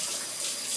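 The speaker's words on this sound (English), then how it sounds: "walk over here to the sink to rinse off my spatula" Hot water runs steadily from a kitchen sink tap as a spatula is rinsed, a close, continuous broadband splashing hiss with no talking.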